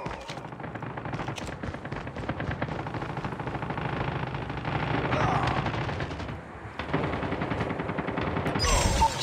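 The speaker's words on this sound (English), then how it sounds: "Friendly sentry gun deployed." Automated sentry gun fires in Call of Duty Mobile, sustained rapid machine-gun bursts mixed with other gunfire and battle noise that runs loudly for the whole stretch.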